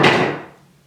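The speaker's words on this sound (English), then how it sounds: "I am going to take this hammer and I'm going to hit this piece of wood really hard" A hammer strikes a piece of wood on a table once, hard, giving a loud close thud that rings out and fades within about half a second.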